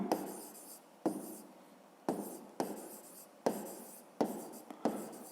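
Pen strokes on paper while a grade 5 math exercise is written out by hand, short crisp scratchy bursts of writing separated by brief pauses, close and quiet.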